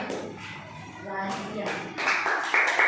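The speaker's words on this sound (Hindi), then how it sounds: "वासिया के लिए जोरदार तालियां।" Clapping from a small group welcoming a child contestant to a kids' Kaun Banega Crorepati game, bursts of hand claps swelling under a host's talk and growing louder toward the end.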